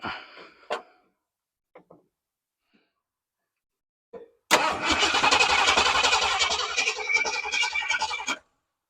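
A 1968 Ford F100 truck engine that has been sitting gives a few brief starter clicks and cranks, then catches and runs loudly and roughly before cutting off.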